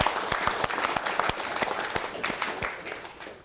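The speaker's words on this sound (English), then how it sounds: "We give our panellists a warm clap." An audience claps warmly for the panellists at a discussion on preserving Pacific languages, with a dense patter of hands and some louder single claps close by, tapering off toward the end.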